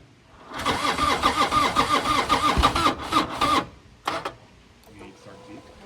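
An abandoned Harley-Davidson Road King engine cranks with a rapid, rhythmic churning for about three seconds, sputters briefly, then gives one more short crank before falling quiet, with faint talk in the background.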